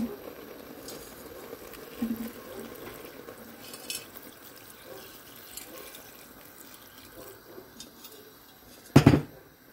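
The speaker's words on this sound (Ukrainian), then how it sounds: "І заливаю водою." Water runs steadily into a cooking pot in a home kitchen as the base for borscht, a soft, continuous trickle and splash heard close up, with a brief louder clatter near the end.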